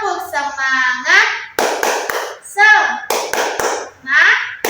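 A class does a rhythmic clapping ice-breaker, bursts of sharp hand claps in a patterned beat alternating with children's chanting voices, close and lively.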